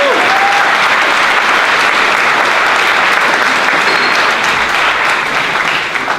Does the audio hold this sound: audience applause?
yes